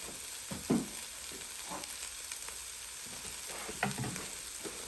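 Lobster fried rice being mixed in a hot pan, with a low steady sizzle and a few soft scraping stirs, one near the start and another toward the end, heard alone without talk.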